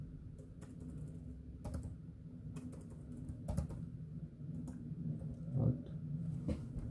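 Java code being typed on a computer keyboard, a run of quick, irregular key clicks over a low steady background hum, close up and fairly quiet, with no one speaking.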